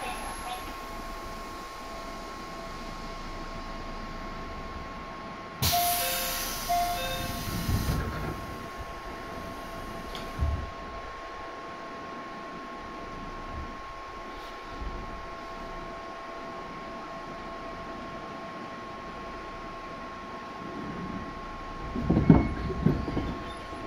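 A JR 211 series train with external fans runs between Hamamatsu and Shizuoka, giving a steady interior rumble and whine with a constant tone, intermittent bursts of louder rolling noise and clattering, and faint background voices.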